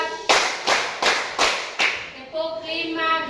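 Five sharp, evenly spaced group hand claps from a class rhythm exercise, loud and close, followed by a faint tonal ring and murmur in the room.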